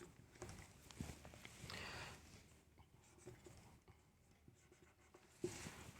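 Pen or marker scratching across paper or a board while a math solution is written out, soft scraping strokes in irregular bursts, fairly quiet and close, with no one talking.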